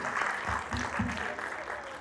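Church congregation applauding during a service, a short burst of broadband clapping at moderate level with a few low voice murmurs mixed in.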